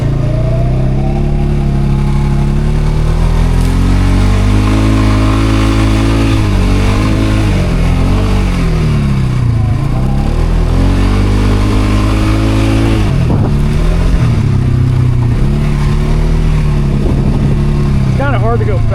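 An ATV engine revs loudly on bumpy sand, climbing and falling in pitch as throttle opens and closes, with engine-braking drops between pulls, close and dominant under occasional talk.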